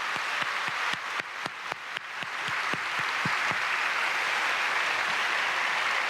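Sharp individual claps at a Korean church union worship service for the liberation anniversary quickly swell into sustained, full applause from the congregation, continuing steadily to the end.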